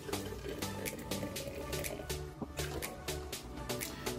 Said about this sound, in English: we're going to pour it equally into our two jars